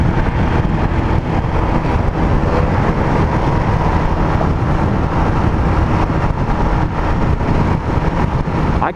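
A 2019 Husqvarna 701 Vitpilen motorcycle rolling on in fourth gear, a steady loud engine drone with heavy wind rush throughout, close and continuous without a break.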